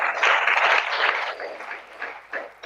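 Audience applause at a public lecture in Ghana, a dense, continuous wash of many hands clapping from a hall crowd, steady and fairly loud before tapering unevenly toward the end.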